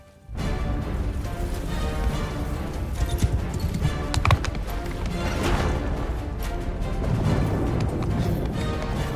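Galloping hooves thud steadily over a dense backdrop of siege battle noise in Mount & Blade II: Bannerlord, with crashes and shouting mixed in throughout.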